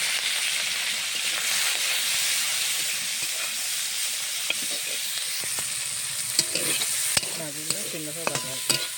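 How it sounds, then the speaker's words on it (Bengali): Fish, including prawns salted and dusted with turmeric, fries in hot oil in a pan with a steady, loud sizzling hiss, joined toward the end by scraping and clinking of a spatula. "মাছগুলো সুন্দর করে ভাজা হচ্ছে।"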